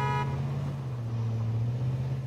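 A car horn honks in the video game DayZ, a steady loud tone held for the whole stretch over low engine rumble.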